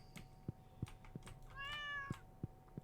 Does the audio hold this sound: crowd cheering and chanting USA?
no